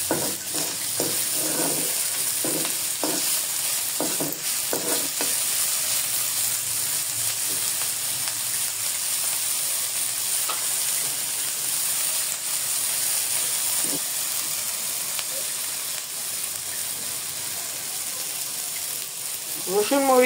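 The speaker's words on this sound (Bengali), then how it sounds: "লবণ দিয়ে আমি আবারও সুন্দর করে নেড়ে নিচ্ছি।" Dried fish with garlic, chili, onion and salt fries in a pan, a steady soft hiss broken by several stirring scrapes early on, with low speech at times.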